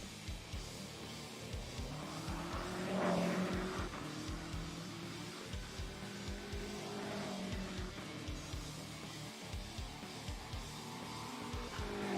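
GT3 race car on a qualifying lap at the Norisring street circuit in rFactor 2: a steady engine drone rising and falling through gearshifts with rhythmic thumping, moderately faint and heard on its own.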